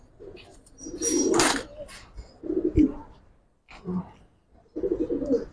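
Giribaz pigeons coo in short throaty bursts, close and fairly loud, separated by brief pauses.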